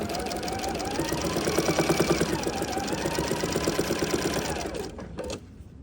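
A sewing machine runs at a fast, even rhythm while stitching binding onto a quilt, the needle clatter loud and close, then slowing and stopping near the end with a brief mechanical clunk.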